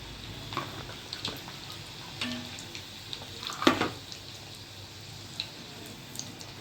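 Samosa pastry sheets frying in hot oil, a soft continuous sizzle with scattered crackles and pops, fairly quiet and close, no talking.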